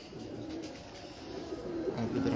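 Pigeons cooing softly at a loft, low repeated coos rising toward the end over quiet background hum, fairly faint and without talk.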